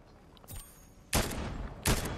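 Gunfire in the battle royale game Fortnite during a competitive tournament qualifier: a faint shot early on, then two sharp, loud reports about three-quarters of a second apart, each ringing out briefly over steady game ambience.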